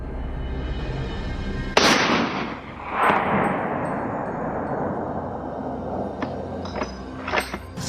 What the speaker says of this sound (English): Without hesitation, shots cracked, shattering the silence.